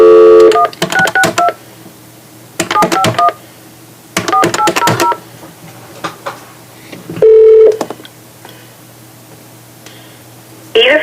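Several bursts of touch-tone dialing beeps sound loud and close as a phone call is placed to a federal prison, with short pauses between groups of tones and a steady hum underneath.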